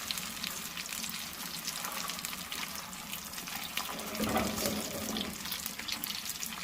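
Potato cutlets dipped in egg fry in a pan with a continuous close, low sizzle and bubbling oil, swelling slightly midway, with no voices.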